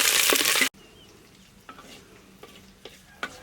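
Garlic and green chillies hit a hot pan with a loud hiss that cuts off abruptly, leaving a soft background crackle broken by a few light stirring scrapes.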